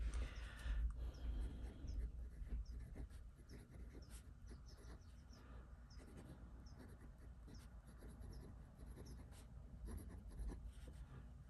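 Medium-nib Waterman Carene fountain pen moving across paper, making faint, close scratchy strokes in short bursts over a quiet room, with no talking.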